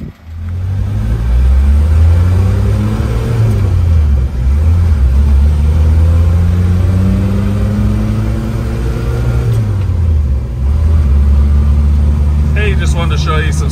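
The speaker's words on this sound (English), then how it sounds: "I'm going up a little hill here. I'm in third gear, but I'll switch to fourth gear." A 1990 Nissan Sunny ute, a Japanese import, drives uphill. Its engine drones loud and close as it pulls in gear, with two short dips where the gears are shifted before the revs build again.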